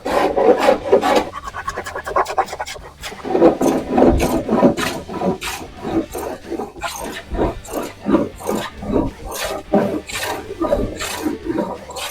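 Oak being hand-planed against the grain for a desktop, a steady run of loud rasping strokes close by, each pass scraping and tearing off thick shavings in an uneven rhythm.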